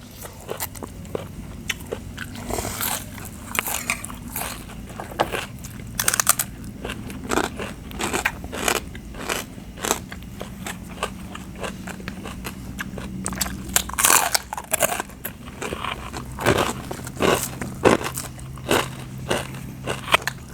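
Crispy pork rinds are bitten and chewed up close, giving repeated sharp crunches and crackles in an irregular rhythm over a low background hum.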